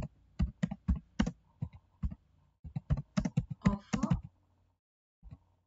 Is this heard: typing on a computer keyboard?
yes